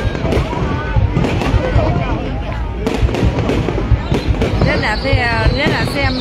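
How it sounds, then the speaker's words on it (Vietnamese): New Year fireworks burst over the old town of Hoi An in repeated sharp cracks and booms. Crowd chatter and nearby voices run underneath, and a rising whistle is heard near the end. "Nên là xem thi bắn pháo hoa là lắm cơ mới nè"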